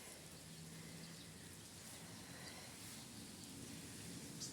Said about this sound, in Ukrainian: І оці троянди білосніжні, і оцей дощик, який йде